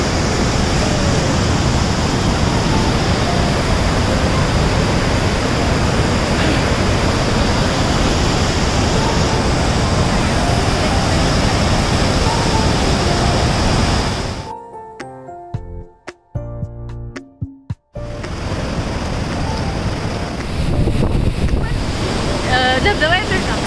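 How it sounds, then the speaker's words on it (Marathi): A monsoon waterfall near Karad pours in a steady, loud roar of rushing water with wind buffeting the microphone, broken by a few seconds of muffled handling noise before the torrent resumes. "धबधबा येतोय का?"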